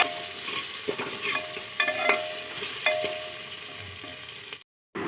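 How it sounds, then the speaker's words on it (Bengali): Potato pieces fry with salt and turmeric in a pan, a soft steady sizzle broken by a few sharp scraping stirs of a spatula before a brief cut to silence. "আমি কিন্তু নুন হলুদ দিয়ে আলুটা ভেজে নিচ্ছিলাম"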